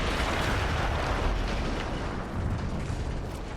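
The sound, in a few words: explosion in a war video game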